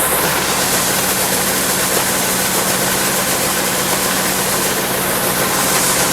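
Farm machinery engine runs loudly and steadily nearby while a soybean hopper is unloaded, a constant droning rumble with broad mechanical noise and no speech throughout.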